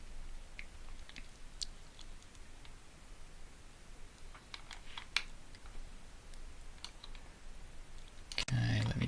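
Soft clicks of a computer mouse while dragging a column header in Epicor ERP 10 software, scattered light taps over a quiet room hiss, ending in a brief louder bump.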